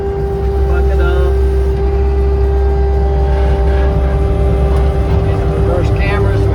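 A loader tractor engine runs steadily and loud throughout while the bucket is raised, a constant low drone with a hum on top, clearing ground near a goat shed.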